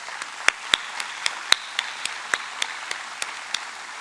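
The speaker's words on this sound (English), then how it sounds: "Let's give him a round of applause." An audience at a grand opening ceremony for an indoor performance facility gives a sparse round of applause, individual claps ringing out unevenly at moderate volume with no talk over them.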